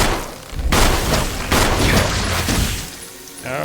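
Gunshots in the survival horror game Resident Evil HD Remaster: three loud, booming blasts roughly a second apart, each with a short decaying tail, followed by a quieter stretch.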